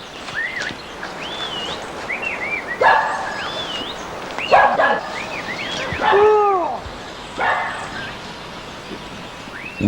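Sheepdogs with a flock bark in several sharp outdoor bursts spaced a second or two apart, while birds chirp faintly in the background.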